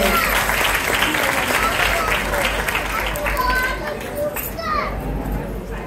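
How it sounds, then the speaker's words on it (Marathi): Crowd applause at a Mangalagaur celebration, a broad steady wash of clapping mixed with children's voices and chatter, loud and continuous throughout, easing slightly toward the end. "या ढोलकीवाल्या छोट्या पॅकेटसाठी जोरदार टाळ्या होऊन जाऊ"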